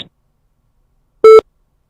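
A single short electronic beep tone from a pharmacy voicemail system, clear and steady, sounding alone after near silence.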